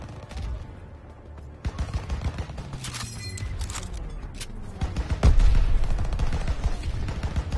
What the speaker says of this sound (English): There's the AA gun.